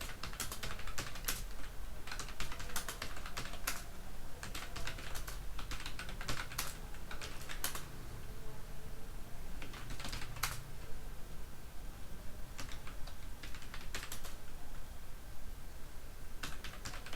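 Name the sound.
typing on a computer keyboard into an Excel sheet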